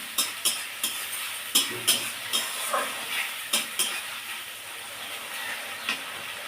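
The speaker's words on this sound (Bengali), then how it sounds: "দেখুন আমার মশলাটা কি সুন্দর বুট বুট করে ফুটছে" Spice paste bubbling and frying in a pan for a fish dish with potato and pointed gourd, a steady close sizzle with repeated scraping stirs of a spatula, no voices.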